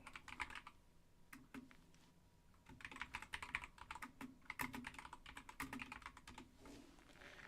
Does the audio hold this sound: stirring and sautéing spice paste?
no